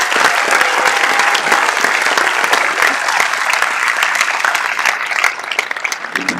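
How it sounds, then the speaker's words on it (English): A large assembly at a council meeting in Istanbul gives a sustained round of applause for its leaders, thick uniform clapping that thins slightly toward the end. "So one big round of applause for our leaders again,"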